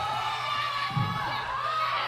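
Fans at a wrestling show shouting and cheering at a wrestler, a dense, continuous roar of mixed voices filling the hall, with a dull thud partway through.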